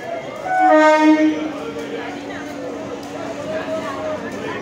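A train at Kanchrapara railway station sounds its horn in a loud, tonal blast near the start, then a steady rail rumble carries on, with voices murmuring faintly in the station crowd.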